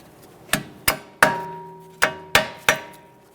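A metal punch struck with a hammer to drive out a front strut bolt on a 2012-2019 Fiat 500: six sharp, ringing metallic blows at uneven intervals, close and loud, each decaying briefly.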